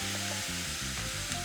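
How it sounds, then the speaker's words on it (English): Beef stir fry sizzles steadily in a hot pan after a splash of champagne vinegar deglazes it, a constant close hiss with a tonal hum layered underneath. "Now I'm gonna deglaze this with just a touch of champagne vinegar."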